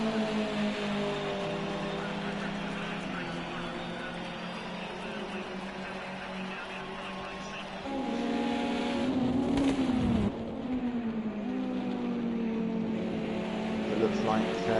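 Race cars in a racing video game drone steadily with rising and falling engine pitch and a louder revving surge near the middle, while commentators talk over it throughout.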